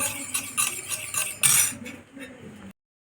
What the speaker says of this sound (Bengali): সব কিছু একসঙ্গে মিশিয়ে নেব।